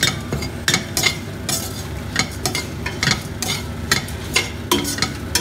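Turmeric roasting in a pan for Kerala black chickpea curry: a steady close sizzle with repeated scraping stirs, bursts of crackle recurring every second or so.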